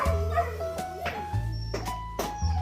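A dog named Diesel gives a few short barks and yips between whimpery sounds, close by, over a low steady hum.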